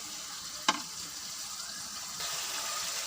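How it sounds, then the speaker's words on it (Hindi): Green chilli paste frying in a pan, a soft, even sizzle with a sharp clink early on and light stirring, the sizzle swelling slightly toward the end, no voices. "इसको अच्छी तरह से भून लेंगे। पाँच मिनट इसको फ्राई करेंगे"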